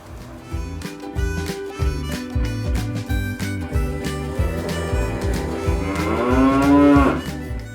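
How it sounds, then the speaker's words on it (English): Cows on a farm moo in a long, deep, drawn-out low, loud and close, over steady rhythmic music, with a rising bellow toward the end. "That's the sound of my cows mooing."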